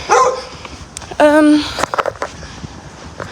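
A dog near horses at a stable gives a loud, sharp bark followed by a drawn-out whining yelp, then a few quieter scattered noises, with no speech.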